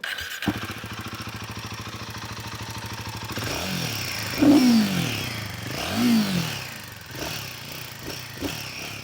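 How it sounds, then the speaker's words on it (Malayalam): A Royal Enfield Himalayan 450 engine idles with a rough, rattling putter, revving briefly twice, with crackling noises mixed into the running sound. "എഞ്ചിന്റെ ഒരു സൗണ്ട് ഇങ്ങനെ അലമ്പായിക്കൊണ്ടേ ഇരിക്കുവാണ്"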